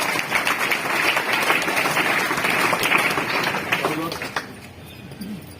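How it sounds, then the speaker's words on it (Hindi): An audience at a school result and prize event applauds a teacher with loud, sustained clapping that fades out toward the end, while a voice talks over it. "ताली बजाओ सर के लिए"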